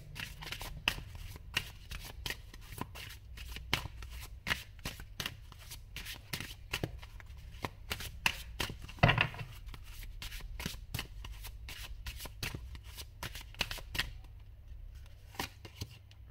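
A tarot card deck is shuffled by hand in a steady, rapid run of riffling card slaps that continues for most of the stretch, close and clear, then thins out near the end, with no talking over it.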